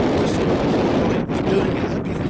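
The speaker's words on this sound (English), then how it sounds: "It's very windy today as well as wet and miserable." Strong wind buffets the microphone outdoors on a wet, stormy day in Oxford, a loud continuous roar with brief dips in the gusts.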